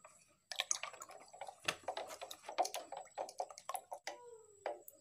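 Water being stirred with eco farming organic fertilizer, a run of close, irregular drips and small splashes with short pauses between them.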